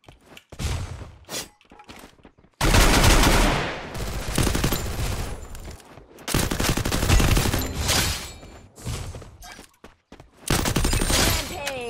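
Bursts of automatic gunfire in a video game ring out in loud, dense volleys separated by short quiet gaps, with a voice speaking briefly between the bursts.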